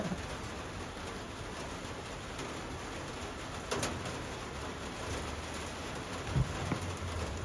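Steady rain falls outside a parked van, making a constant broadband hiss throughout, with a couple of soft knocks and a brief bird call in the background.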